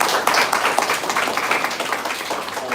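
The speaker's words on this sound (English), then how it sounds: "let us all applaud once again Mrs. Yanung Jamo for her invaluable service to the society" An audience applauds Mrs. Yanung Jamo at a society service recognition event, a dense, steady burst of many hands clapping throughout.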